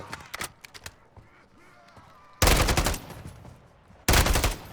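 Bursts of automatic gunfire from a weapon in the video game Modern Warfare Zombies, two loud sustained volleys after a quieter stretch of scattered shots and game sounds.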